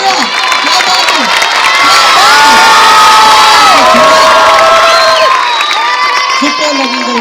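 Crowd at a traditional Sando strongman and wrestling show cheering loudly, with shouts and whoops rising over a dense, steady roar that holds throughout; clapping may be mixed in but is not distinct.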